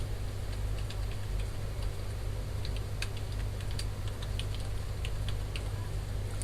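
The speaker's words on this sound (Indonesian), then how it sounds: "Kita ketik jumlah anggota." Computer keyboard typing in Excel as a count of members is entered, a run of light, scattered clicks over a steady background hum, with no speech.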